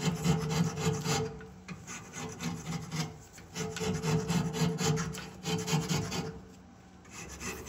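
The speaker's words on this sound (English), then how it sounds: "Scraping off old petrified gaskets is no fun." Old petrified gaskets are scraped off an engine, giving repeated rasping strokes of a scraper against hard crusted material, close and fairly quiet, in a steady back-and-forth rhythm.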